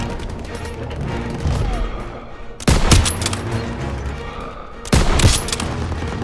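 Heavy gunfire fills a war video game street battle against German troops, with sustained crackling fusillades, machine-gun bursts and two loud sharp blasts standing out over the constant din.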